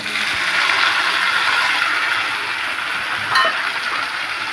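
Tomato and garlic sautéing in a pan for chutney, a loud continuous sizzle with faint clinks of stirring now and then, no talking.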